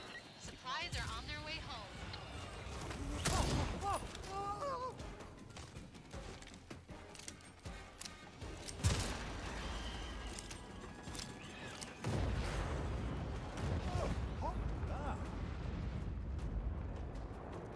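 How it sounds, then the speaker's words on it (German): Explosions and gunfire from the video game Second Extinction, a dense continuous battle din with booming blasts around 3 s, 9 s and 12 s under talk throughout. "Ich glaube auch die Explosion war neu."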